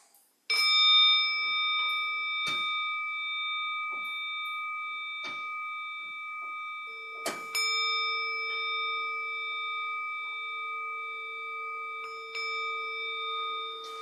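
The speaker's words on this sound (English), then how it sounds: "More bells." Meditation bells ring out during a guided awareness session, a few clear struck tones with long sustained shimmering decay, one strike near the start and another midway, each ringing alone with no talk.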